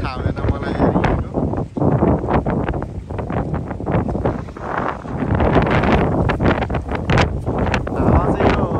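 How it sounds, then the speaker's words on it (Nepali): Strong sea wind gusting at a seaside spot, buffeting the microphone in a loud continuous roar that surges and dips while someone talks over it. "हावा चाहिँ यो समुद्र भएकोले होला"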